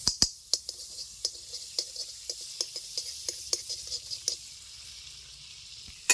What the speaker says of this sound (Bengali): আজকে তেল দেব না, তেল ছাড়াই আমি বাটার দিয়ে রান্না করব।